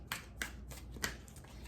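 Tarot cards are shuffled and pulled from the deck, a few soft riffling bursts with sharp card snaps, close and quiet, no talk.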